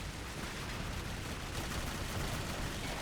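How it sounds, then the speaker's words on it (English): Dense, continuous gunfire in the video game Clive Barker's Jericho, a steady barrage of rapid shots with no pauses, loud and close throughout. "I hope you guys like the sound of gunfire"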